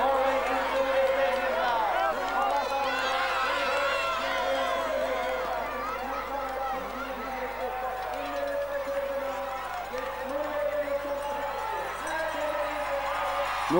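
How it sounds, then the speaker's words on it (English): Thousands of Norwegian spectators cheer and applaud in a ski stadium as a cross-country relay skier arrives, a steady distant crowd roar with whoops, heard under continuous commentary. "As Alsgaard comes into the stadium for the last time to receive the applause from the thousands of Norwegian spectators who have come to support him"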